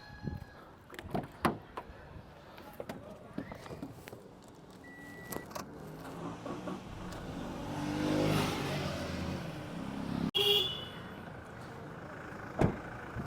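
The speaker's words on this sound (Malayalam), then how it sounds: "ഞാൻ ജസ്റ്റ് വണ്ടി ഒന്ന് സ്റ്റാർട്ടാക്കിയും കൂടെ കാണിക്കാം." A used, well-maintained car is started up after a few clicks and door thumps; the engine swells into a moderate rev, then settles, with faint handling noises and a sharp knock near the end.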